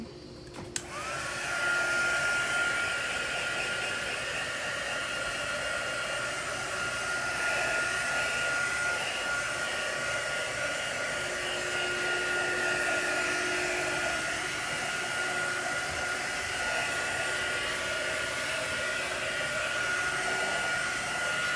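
A hair dryer runs steadily on a chalk craft project, a loud continuous whirring hum that starts abruptly and holds for about twenty seconds with no talking.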